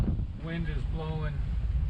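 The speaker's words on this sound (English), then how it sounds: "wind is blowing" Wind blows across a sailboat cruising at sea among whitecaps, giving a steady low rumble of wind buffeting the microphone. A voice speaks briefly underneath it.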